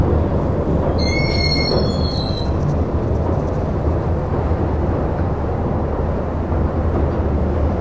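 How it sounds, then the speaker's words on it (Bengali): A train crosses a bridge over a river near Srinagar, Kashmir, in snowy country: a steady, loud rolling rumble of wheels on track fills the whole stretch, with a brief high metallic squeal early on and no voices. "এখন আমাদের ট্রেন এই ব্রিজের ওপর দিয়ে যাচ্ছে"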